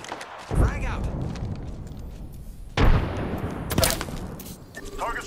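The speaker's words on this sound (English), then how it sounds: "The enemies are shooting at me." Enemy gunfire rings out in Apex Legends, two heavy bursts of shots with booming impacts a couple of seconds apart, laid over game voice lines and sound effects.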